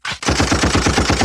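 Rapid automatic gunfire sounds as a quick, even burst of about a dozen loud, close shots in just over a second.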